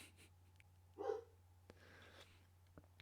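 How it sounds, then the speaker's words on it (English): A single muffled dog bark, somewhat distant, over a low steady hum, followed by quieter breathy sounds. "And that's the dog barking."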